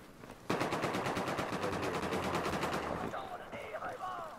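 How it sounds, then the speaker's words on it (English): Sustained automatic gunfire in Battlefield 4 on the Floodzone map, a rapid rhythmic burst lasting a few seconds, loud and close, then fading into scattered game sounds. "Somebody shooting at him."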